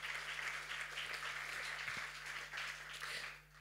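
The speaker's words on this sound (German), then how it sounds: "da kann man auch mal klatschen" Audience applause at a speech by a Berlin senator on a fund for digital development in the cultural sector, a continuous moderate wash of clapping that thins slightly toward the end.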